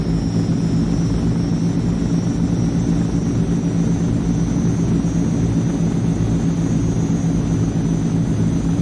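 A C160 Transall transport plane climbs in a flight simulator, its engines giving a loud, continuous droning roar with a faint steady high whine above, and no voices.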